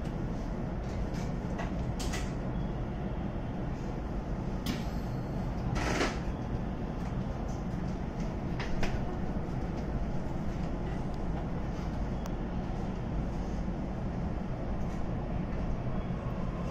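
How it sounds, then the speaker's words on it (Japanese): A JR West 227 series train pulls away on the Kisei Line, giving a steady broad rumble with scattered faint clicks and rattles throughout. "紀伊田辺行き発車いたします。"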